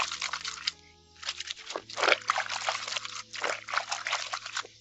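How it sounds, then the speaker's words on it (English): Clothes scrubbed by hand during washing, with white garments and jeans rubbed together: rapid, close, rough scratching bursts with some wet swishing, coming in uneven bunches and brief pauses. "just scrub it"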